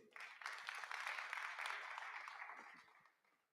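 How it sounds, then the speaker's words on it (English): Audience applause at a panel discussion on feeding a growing population, a dense, moderately distant round of clapping that builds quickly, holds steady, then fades away near the end, with voices faintly mixed in. "Let's give him a better round of applause"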